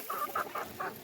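Chickens in a coop give four quick, soft clucks in an even rhythm, close by and fairly quiet, with no talking over them.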